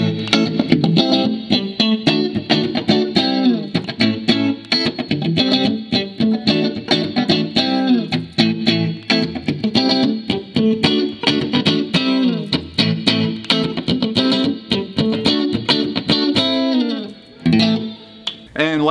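Electric guitar lines from a 1979 Fender Stratocaster with neck and middle pickups combined, loud and close, a steady stream of picked notes and chords with a chorus-like shimmer, ending briefly near the close.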